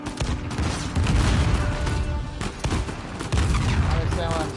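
Dense game gunfire from Uncharted 4: A Thief's End firefight, sustained loud bursts and booming shots layered with explosions, with someone talking over the chaos.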